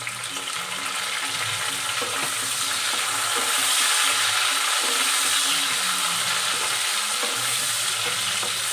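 Frying potatoes in a pan get tomatoes added for a vegetarian aloo dum, giving a steady, fairly loud sizzle with stirring scrapes throughout, close by and without any talk.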